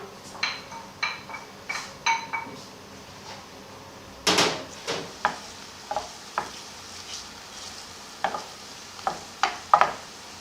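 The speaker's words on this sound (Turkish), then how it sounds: "Şimdi tereyağında soğanları kavuracağım." Onions sauté in butter in a pot for bulgur pilaf under a soft sizzle, while a spoon scrapes and stirs in repeated sharp knocks and clinks close by, with no talking.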